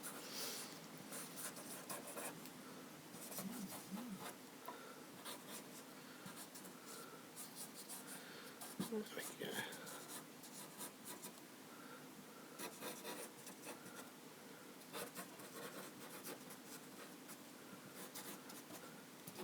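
Orange pens scratch and rub steadily across paper during a loose drawing of fire, a faint, continuous close-up scribbling texture with brief pauses and no talking.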